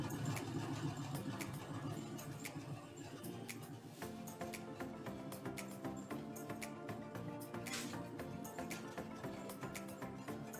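Brother sewing machine stitching fabric toward a corner, a steady soft mechanical whir with rapid needle clatter running continuously, fairly faint and close.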